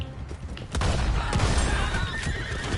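Horses in Red Dead Redemption 2 whinny and neigh over clip-clopping hooves and dense game noise, loud and busy throughout.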